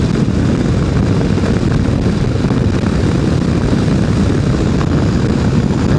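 A Kawasaki KLR motorcycle cruising in top gear on a ride, its engine and wind roar forming a loud, steady, unbroken drone close to the rider throughout.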